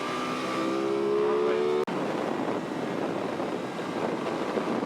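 An Aprilia Tuono 660 Factory motorcycle ridden on a race track, engine note rising in pitch under acceleration, then a sharp break at a gear change before a rougher roar buried in heavy wind rush.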